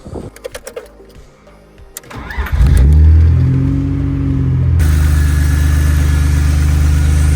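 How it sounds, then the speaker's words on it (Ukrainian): A BMW E30 engine, just back from an alternator repair, cranks with a whirring starter after some clicks and handling noises, catches and settles into a loud, steady idle that carries on to the end, recorded close. "Зібрав докупи, зараз запущу, подивлюся, як працює наш генератор."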